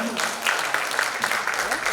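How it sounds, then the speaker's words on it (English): Audience applause at a foldable phone launch ceremony in a hotel venue, a brief wash of many hands clapping from a distance, with a voice talking over it. "Can we once again have a huge round of applause on that?"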